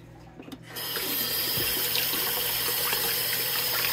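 Hot water gushes from a tap into a sink, starting abruptly after a moment of quiet and then running as a steady, close hiss.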